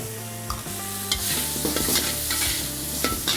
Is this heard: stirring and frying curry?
yes